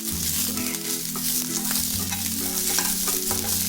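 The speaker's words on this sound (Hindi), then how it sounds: "अच्छे से इसे क्रिस्प होने तक रोस्ट करना है।" Plenty of curry leaves roasting in oil until crisp, a bright continuous sizzle close by with steady stirring scrapes running through it and nobody speaking.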